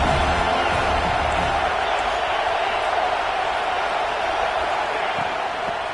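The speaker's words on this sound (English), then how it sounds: "Crowd trying to make life miserable for this offense" Steady stadium crowd roar at a football game, a dense continuous wash of many voices holding at a constant loud level throughout with no clear cheers or peaks standing out.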